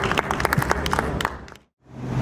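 An audience at a Gujarati literary gathering applauding to welcome a speaker, a burst of many hands clapping that fades out, followed by a brief silence and a faint hum.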